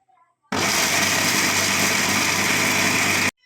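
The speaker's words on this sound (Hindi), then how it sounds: "मैं तो मिक्सी में पीस रही" A mixer grinder grinding almonds coarsely roars to life after a brief moment of quiet, running at a loud, steady whir for about three seconds before cutting off abruptly.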